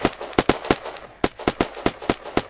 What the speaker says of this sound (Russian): А зачем ты стреляешь в разные стороны?